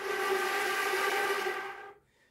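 Wind tone on a flute, blown across rather than into the instrument, giving a breathy, airy tone with a faint pitched whistle that sustains evenly for about two seconds and then fades out quickly.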